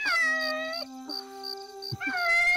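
A cat in front of a car gives a long, drawn-out, wavering yowl. It rises and falls in pitch across several seconds, close and clear, with no talking over it.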